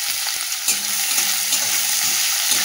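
Chopped onions and a bay leaf hitting hot oil, giving a loud, dense, continuous sizzle close by with faint stirring clicks underneath.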